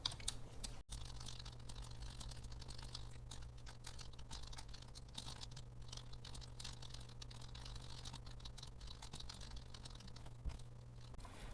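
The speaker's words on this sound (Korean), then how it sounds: "이렇게 첫 번째 줄 썼으면 엔터 누르고 다시 탭 눌러서 오타 없이 치는 게" Steady typing on a computer keyboard, with soft, rapid key clicks running continuously at low volume over a faint constant hum, with no voices.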